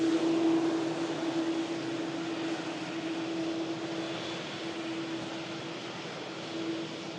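A steady, droning jet engine roar from an aircraft on approach to land at Manchester Airport, a low hum with a bright tonal whine that stays fairly constant and distant, no voices.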